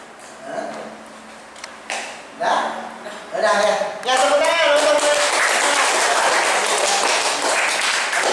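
Classroom applause in an Indonesian religious-education teaching session: a teacher speaks in short phrases at first, then a group of students breaks into steady clapping that continues to the end.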